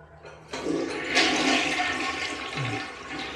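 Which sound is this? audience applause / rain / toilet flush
toilet flush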